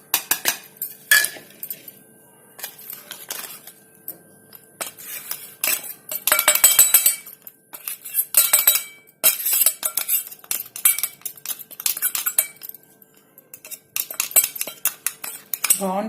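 A spoon mixes chili powder and salt into a grape pickle in a bowl, with repeated close clinks and scrapes of metal on the vessel coming in bursts and short pauses.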